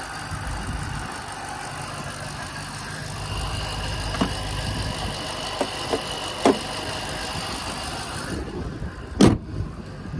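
A supercharged 5.4-liter V8 in a 2008 Ford Mustang Shelby GT500 idles smoothly and steadily at close range, with a few faint clicks and a brief louder knock near the end.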